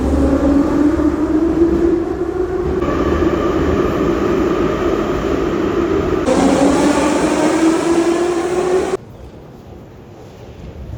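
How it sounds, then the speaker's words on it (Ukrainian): A Kyiv metro train runs loud and steady, its rising motor whine and rumbling wheels filling the ride, with a brighter surge midway before the noise drops lower near the end. "ми маємо показати метрополітен"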